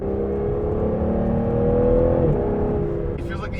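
A 2016 Aston Martin Vanquish engine heard from inside the car, a steady rising tone that swells and eases as the throttle lifts around 4,000 rpm, with a person talking briefly near the end.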